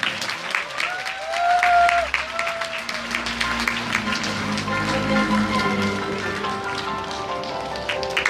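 Audience at a Busan welfare rally claps for the last candidate, a sustained wash of applause with a short tonal whine early on, holding steady to the end.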